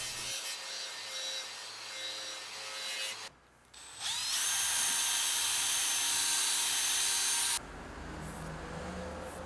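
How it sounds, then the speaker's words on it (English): A burnishing disc on an angle grinder buffs sandblasted surfaces of a giant rusty vise, giving a loud continuous whirring rub that pauses briefly midway, then resumes at full strength before easing into a lower hum. "I'm once again using a burnishing disc, which is not to be confused with an abrasive flap disc"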